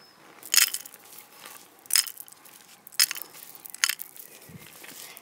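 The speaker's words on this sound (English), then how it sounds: "More rocks from up the top of the mountain started pouring downwards." Rocks tumble down a mountain onto a wooden toy train in a mine set: four or five sharp, crunching clatters land roughly a second apart, with quiet gaps between each burst.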